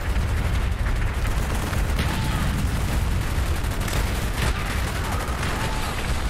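Gunfire in Call of Duty Black Ops, dense loud bursts of automatic fire and booming shots crackling continuously over a rumbling low backdrop with no pauses.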